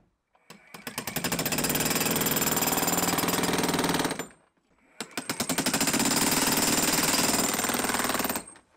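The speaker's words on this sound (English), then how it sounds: "So I'm using the point breaker bit here." A jackhammer with a point breaker bit pounds a concrete slab in two long, loud, steady runs of rapid hammering, separated by a short pause.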